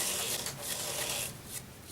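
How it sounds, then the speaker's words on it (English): Steady, close-up rubbing and scraping of 1200-grit abrasive paper wet sanding a turned spalted mango wood vase, continuous strokes with a soft hiss, no voices. "which I sand with 1200 grit wet sanding on this"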